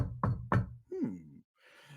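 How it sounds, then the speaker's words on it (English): Two sharp knocks on a door sound close and distinct, followed by a short hum-like tone and faint rustling, with no talking. "the question is answered by a knock on the door"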